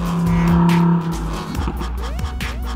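A Lamborghini Huracan EVO runs on a race track, its engine holding a loud steady tone before dropping and shifting, with tire squeal and rising revs following.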